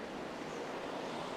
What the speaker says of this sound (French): il y a des courants d'air ici. Et la direction du vent change sans arrêt.